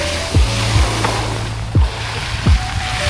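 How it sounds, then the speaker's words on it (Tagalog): Waves hitting a pebble beach shore in La Union, with several distinct rushing thumps as the surf strikes the stones, over steady wind and wash noise. "So iba yung tunog nung alon pag tumatama sa dalampasigan."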